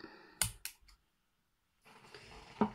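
Scissors snip white bookbinding string, two quick close clicks followed by quiet, then faint rustling handling noise.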